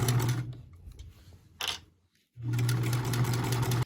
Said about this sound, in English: Now I can take this to the sewing machine and just sew across the bottom with a 1/8 inch seam